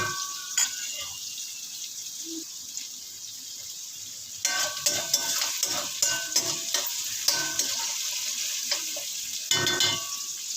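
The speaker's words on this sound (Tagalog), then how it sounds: "Medyo i-brown natin ng konti guys yung ating bawang mo." Garlic browning in a pan sizzles quietly while a utensil stirs and scrapes, with clattering bursts of stirring and splashes that recur through the middle and end; no voices.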